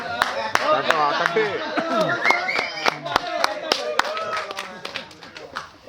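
Scattered, sharp claps break out from an audience at the Vanji movie audio launch, coming irregularly at close range under someone speaking.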